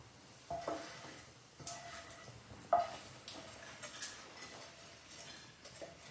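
Walnuts frying in a pan, heard as a faint background sizzle broken by several light clinks and stirring taps of a utensil against the pan.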